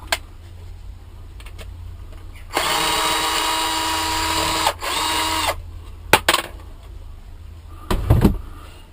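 An electric screwdriver whirs at close range in two sustained bursts of a few seconds each, followed by sharp clicks and a dull knock, with no talk.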